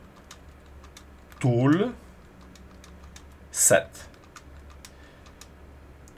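Keys on a computer keyboard clack sparsely in soft, scattered taps while a web address is typed, with a short stretch of talking over the quiet clicking.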